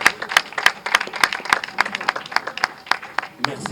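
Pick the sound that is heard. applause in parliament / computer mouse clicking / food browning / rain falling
applause in parliament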